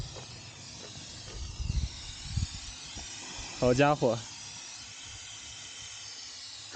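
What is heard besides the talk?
steam hissing from an overheated car radiator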